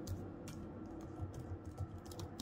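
Fingers type on a computer keyboard in quick, irregular keystrokes with close, soft clicks and no talking.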